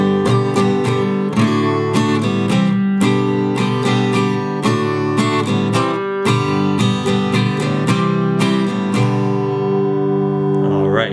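Acoustic guitar strums the chorus chord progression of a song in a rhythmic strumming pattern, loud and close, ending on a ringing chord that fades out.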